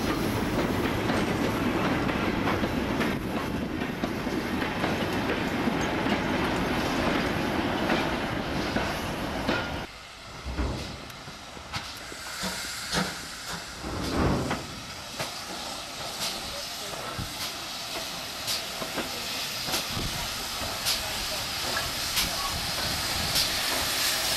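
A Collett-designed 0-6-0 steam locomotive hauls a freight train on a heritage railway, with steady hissing steam and rumbling wagons, then rhythmic clickety-clack of wheels over rail joints as it passes close by.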